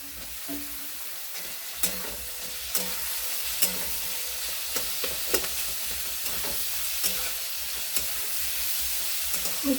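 Onions and vegetables sizzle steadily in a hot pan, with a constant frying hiss broken by occasional sharp crackles and spatters. A few stirring scrapes sound up close, and no one speaks.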